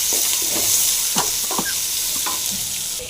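Chopped onions sizzle steadily in hot oil in a pan while a spoon stirs them now and then, giving soft scraping clinks over the constant loud frying hiss, with no talking.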